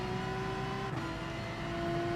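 A race car engine in Gran Turismo Sport holds a loud, steady droning whine, dipping briefly at a gear shift before settling into a constant high note, with no talking.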